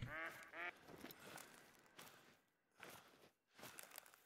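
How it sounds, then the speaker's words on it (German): Ducks quack and call as they land in a splashing, crash-like descent on water during a hunt in New Zealand, the sounds faint and intermittent with rustling between. "jetzt machen die Enten da eine Bruchlandung."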